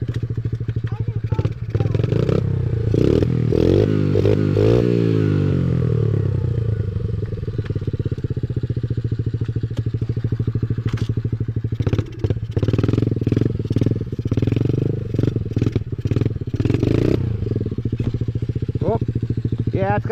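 A dirt bike engine on a trail hill drones loudly and continuously up close, its revs rising and falling with occasional clattering knocks, while people talk over it throughout.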